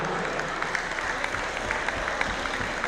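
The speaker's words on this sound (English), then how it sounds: "So a big round of applause for them on that." An audience at a junior competition finals applauds two young girl competitors, a fairly even wash of clapping with scattered sharper claps standing out, moderately loud and continuous.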